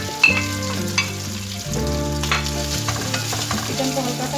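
Chicken frying lightly in about four tablespoons of oil, a steady close sizzle with a few stirring scrapes and clinks of a spatula throughout.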